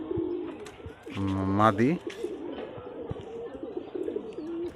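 A pair of Geribaj pigeons gives one rolling, throaty coo close by, while people keep talking before and after it.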